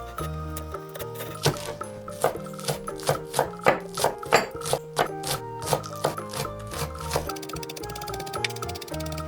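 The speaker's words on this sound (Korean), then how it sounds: "대파는 한 줄 잘게 다져주세요" A knife finely chops green onion on a board while bulgogi is prepared, the blade striking in a steady, brisk rhythm of close, crisp taps over tonal background music.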